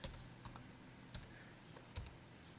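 A password typed on a computer keyboard, a handful of soft, sparse key clicks in an irregular rhythm, close and quiet.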